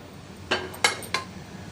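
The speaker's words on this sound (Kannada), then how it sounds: "ಸ್ಟವ್ ಆನ್ ಮಾಡ್ಕೊಳ್ಳೋಣ. ಕುಕ್ಕರ್ ಪಾತ್ರೆ ಇಟ್ಕೊಳ್ಳೋಣ." A metal pressure cooker pot is set down on a kitchen stove, giving three distinct clanks about a third of a second apart against a quiet background.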